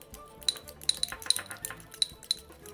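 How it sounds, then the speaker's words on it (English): A whisk clinks quickly and lightly against a bowl while an egg is beaten, giving a run of bright, irregular ticks that sound close but soft. "So let's go ahead and whisk up the egg."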